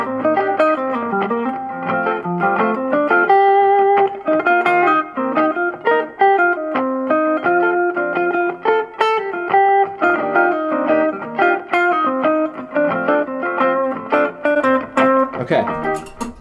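Electric guitar running pentatonic licks mixed with chord tones over a song's changes, a busy, continuous stream of quick picked notes with light effects, close and unaccompanied by speech.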